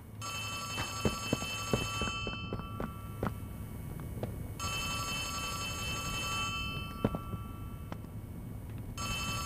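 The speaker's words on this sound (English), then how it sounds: "Hold on, go answer the phone." An old-style telephone bell rings repeatedly in Poppy Playtime Chapter 3, its bursts of harmonic ringing separated by short gaps over a low background hum and scattered clicks, with no speech.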